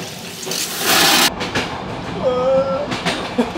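A Bulgarian BDZ fast passenger train rumbles along the rails with a steady rattling roar, brief metallic squeals of wheels, and clattering bumps; no talking.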